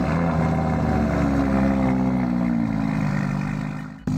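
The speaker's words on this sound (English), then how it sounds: "let's go ahead and hear this V10 startup on this car" An Audi R8 LMS GT3 Evo V10 engine starting up in the video game Driving Empire, settling into a steady, loud, close idle drone that holds for a few seconds before cutting off abruptly.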